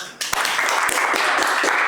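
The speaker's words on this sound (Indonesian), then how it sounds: "Tepuk tangannya semua." Audience applause at a ThinkTalk tech talk event starts abruptly and fills the room as a dense, steady wash of many hands clapping at a fairly even level.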